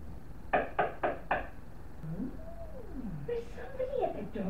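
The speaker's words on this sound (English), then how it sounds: "Knock, knock, knock, who's at the door?" Four quick, close knocks rap on a door in a children's educational show, followed by voices talking.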